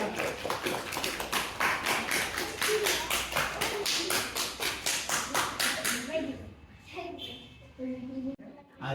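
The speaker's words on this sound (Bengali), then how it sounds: "হাততালি সবাই দাও" Audience at an ashram event clapping in rhythmic unison, a brisk run of sharp claps that fades into scattered claps and murmuring voices.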